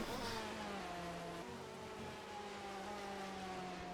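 Sim racing cars run onto Silverstone's start-finish straight, engines holding a steady, rising whine through the gears, loud and continuous with no speech.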